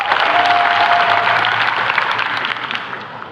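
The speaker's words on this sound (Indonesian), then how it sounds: "Kita berikan aplaus kepada Mas Gibran" An audience breaks into sustained, loud applause for Gibran at a political declaration event. The dense clapping holds steady and begins to taper toward the end, with a faint crowd murmur underneath.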